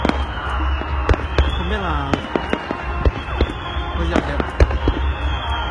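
Fireworks bursting at a Japanese summer hanabi festival, a string of sharp booms and crackles spread through the clip over a steady crowd murmur, with people talking close by throughout.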